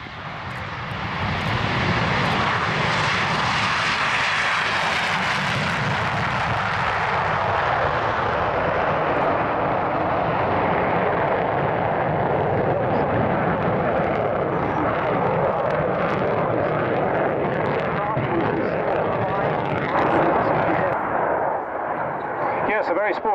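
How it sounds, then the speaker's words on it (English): A Saab AJS-37 Viggen jet takes off at an RAF Waddington air show, its engine a huge continuous roar building to full power and rumbling on for over twenty seconds, loud and close before slowly thinning as it climbs away. "Yes, a very sporting takeoff there, Ben."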